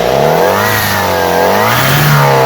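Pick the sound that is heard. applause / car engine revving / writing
car engine revving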